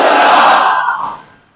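A big crowd at a religious gathering shouts its reply to the Nara-e-Risalat slogan in one loud, massed roar of voices that trails off after about a second.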